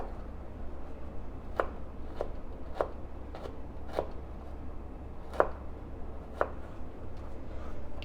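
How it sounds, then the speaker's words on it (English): A knife chops ginger on a cutting board for a shrimp pad thai: about eight sharp, separate strikes at an uneven pace, close and clear over a low steady hum, with no talking. "I'm just gonna chop that up a little bit more."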